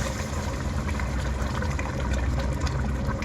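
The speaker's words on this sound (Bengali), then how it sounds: "ওই চিকেন স্টকের পানিটা ঢেলে দেবো" Chicken stock is poured into rice in a cooking pot, making a steady, close rush of liquid that runs unbroken for a few seconds under a low background hum.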